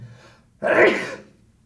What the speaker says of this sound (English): Almost sneeze.